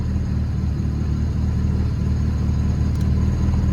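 Honda Civic engine idles steadily with the headlights on, a constant low rumbling hum close by with no talking.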